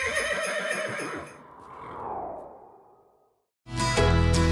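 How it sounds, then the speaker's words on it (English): Horses neigh and whinny in a drawn-out call at a Christmas parade, loud and close, fading into a brief silence before a sudden burst of other loud sound. "The horses and wagons are moving out right after these messages."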